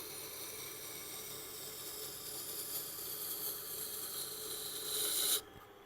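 A large knife is sharpened at a 50-degree bevel, making a steady, close, hissing rasp of abrasive on steel that continues evenly and then stops abruptly near the end.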